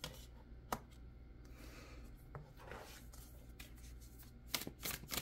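Tarot cards being shuffled close by, a quiet soft riffle and rub with a few sharper taps, and no talk.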